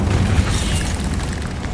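A loud, sustained fiery blast from the Incendio spell in Hogwarts Legacy, a rumbling roar with a steady boom that holds throughout.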